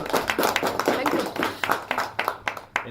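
An audience at a lecture on child protection gives a round of applause: scattered, uneven claps from a modest group, with a few sharp individual claps standing out as it thins toward the end.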